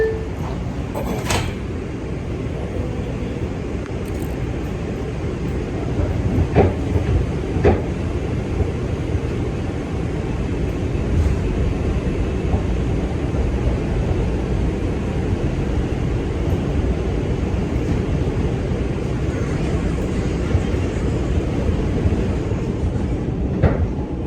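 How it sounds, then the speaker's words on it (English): A Manhattan-bound New York subway 2 train rolls along inside the car, with a loud continuous rumble and rattle, occasional sharp clicks and squeals, and a slight swell in noise as it picks up speed, without talk. "So we on the 2 train heading home right now."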